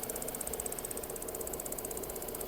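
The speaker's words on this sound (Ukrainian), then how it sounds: "двигун працює чітко" A Volkswagen Golf 4 with a 1.6 MPI petrol engine idles steadily, a continuous low mechanical hum with an even, fast ticking rhythm layered on top and no talk.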